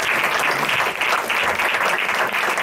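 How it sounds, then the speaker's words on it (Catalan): Audience at a round-table presentation event claps for a speaker being thanked, a dense, even burst of applause held at constant loudness throughout, with no voices over it. "demano un aplaudiment per l'Alfons perquè realment se'l mereix"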